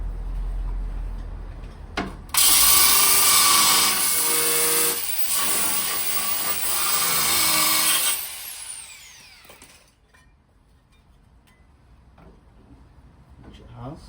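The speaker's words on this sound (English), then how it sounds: "the belt sander should be able to do that" Belt sander grinding and trimming a steel angle on a Transit chassis, a loud broadband rasping burst that starts abruptly, holds steady for several seconds, then stops, leaving quieter workshop ambience.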